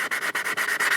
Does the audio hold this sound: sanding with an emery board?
yes